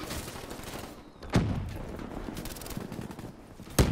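Shotgun fire in a video game: two sharp, loud blasts spaced a few seconds apart, standing out over a quieter bed of background game noise.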